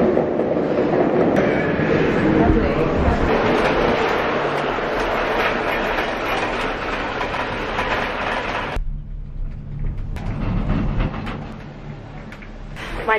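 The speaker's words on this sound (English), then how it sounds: "So I'm going to go up the Whistler Gondola." Gondola lift ride up Whistler Mountain: a steady, loud mechanical rumble and rattling clatter from the cabin and cable, fairly constant, easing briefly after a change near the end; no talking.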